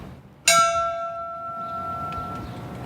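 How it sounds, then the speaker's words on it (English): A single memorial bell tolls once at a coal miners' remembrance in Appalachia, struck sharply and then ringing on in a long, clear, slowly fading hum, with no talk over it. "A bell rang for each one of them."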